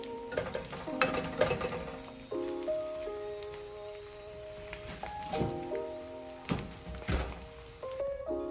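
Eggs frying in a pan for a quick breakfast, with soft sizzling under clinks and scrapes of a utensil against the pan, close by and fairly quiet.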